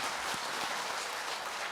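Steady applause from the audience at a Korean political seminar as a former National Assembly speaker is named, a dense, even wash of clapping that holds at a moderate level for the whole stretch with no voices over it.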